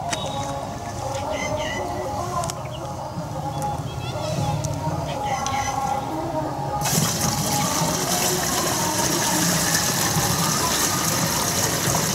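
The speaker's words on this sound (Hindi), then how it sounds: "पानी डाल के मिला रही है" Water is poured into a container and mixed into a pesticide solution for potato plants, a steady splashing gush that grows louder and fuller partway through, with someone talking over it.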